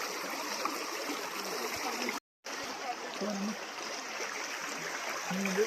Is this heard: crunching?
no